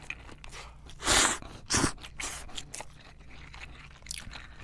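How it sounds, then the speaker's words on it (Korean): Shrimp mi goreng ramen being eaten up close, with two loud crunchy bites early on followed by softer chewing and small mouth sounds, no talking. "아빠 까발에 새우를 듬뿍 넣은 미고랭 라면 완성했어요."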